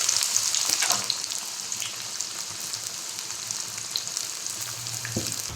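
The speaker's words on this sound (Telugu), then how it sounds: "ఇప్పుడు ఆనియన్స్ వేసుకొని ఫ్రై చేసుకుంటున్నాను" Onions deep frying in hot oil give a bright, continuous sizzle at close range, with occasional spatters and a few stirring knocks.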